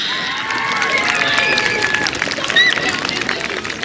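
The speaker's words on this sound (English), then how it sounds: "let's give a round of applause for our Eastlink Premiership champions, Halifax Dunbrack" Crowd at a provincial soccer final applauds the Premiership champions Halifax Dunbrack, a steady wash of clapping and cheering with babble and whistles throughout.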